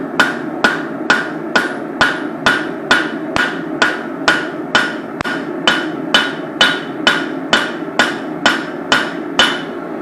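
A straight peen hammer strikes hot steel while a knife blade is forged and drawn out, about eighteen loud, close, evenly spaced ringing blows with no talk.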